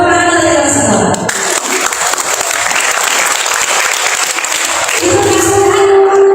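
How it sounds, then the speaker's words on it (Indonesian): An audience claps loudly and steadily at a job fair interview workshop, dense applause between stretches of amplified talk at the start and end. "Tepuk tangan kalian semua."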